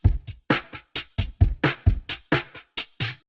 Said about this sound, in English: Next thing I added was this drum loop from Steven Schaefer's kit,